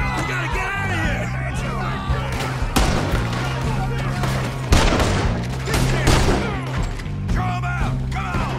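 Western gunfight in Red Dead Redemption 2: scattered rifle and pistol shots crack nearby in irregular bursts, mixed with crashes and booms under excited shouting voices.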